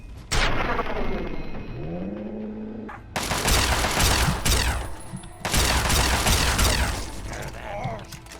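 Gunfire and mechanical weapon clatter in Fallout 3, with sharp broadband bursts in dense, sustained volleys that break off briefly around the middle before resuming loud and close, over faint background game sounds.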